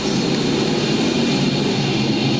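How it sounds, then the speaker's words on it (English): A pack of A-Mod modified race cars roars around a speedway oval at full throttle, making a dense, continuous, loud engine drone with no talking over it. "foot to the floor, the engines roar, and here come your A-Mod"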